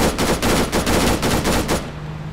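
Gunfire in the video game Arma 3: a loud automatic burst of about eight rapid, evenly spaced shots that cuts off near the end, leaving a low hum.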